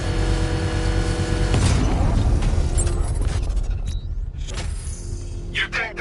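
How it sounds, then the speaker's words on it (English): A heavy explosion in a Batman video game booms and rumbles, followed by scattered crackling debris and a few sharp pops as it fades. "I can use the power winch to trigger a controlled explosion."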